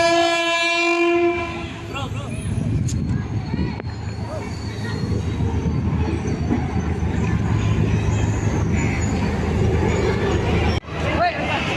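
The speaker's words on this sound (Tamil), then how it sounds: "நேபாள் ட்ரெயின் வந்தாச்சு." A Nepal train on the Janakpur to Jaynagar India–Nepal international line pulls into a station. It opens with a horn blast, then gives a loud, continuous rumble and clatter of the rolling carriages, with a busy crowd murmuring throughout.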